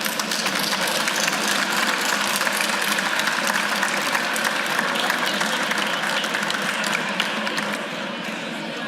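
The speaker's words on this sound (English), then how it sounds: "I would like to recognize them at this moment with a round of applause" A dinner audience at a keynote event breaks into a round of applause, a dense, loud wash of clapping that holds steady throughout and eases slightly near the end.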